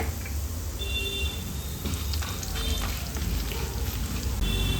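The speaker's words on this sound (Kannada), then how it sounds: "ಒಂದು ಅನನಾಸ್ ಹೂವನ್ನು ಹಾಕ್ಕೊಂಡು ಫ್ರೈ ಮಾಡ್ಕೊಳ್ಳೋಣ" Whole spices (fennel seeds, peppercorns, cardamom, cinnamon, cloves and star anise) frying in oil in a pan, a steady close hiss and crackle of sizzling with no talk.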